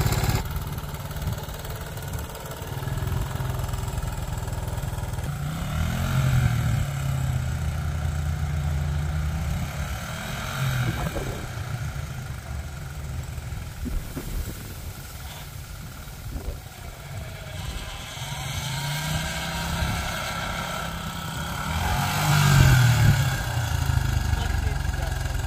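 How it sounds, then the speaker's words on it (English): A repaired engine runs steadily at idle, a continuous low rumble that swells slightly at moments, with people talking over it. "now it starts and runs good, and it's not leaking gas anymore either"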